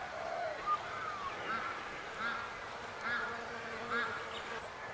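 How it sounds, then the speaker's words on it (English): Bees buzzing around a flowering quince tree outdoors in a spring permaculture food forest, a steady mid-distance hum of many insects with occasional louder passes near the microphone. "And with lots of bees on it, I think we'll have a lot more."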